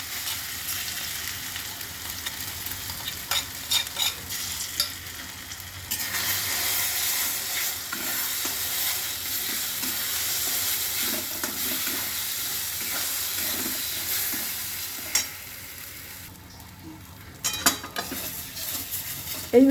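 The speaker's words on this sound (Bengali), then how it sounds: "এই ডালটাকে আমি একটু তেলের মধ্যে নেড়ে শুকিয়ে নেব।" Masoor lentils stirred and dry-fried in oil in a pan, giving a steady close sizzle with scraping stir strokes and occasional utensil taps, no talk.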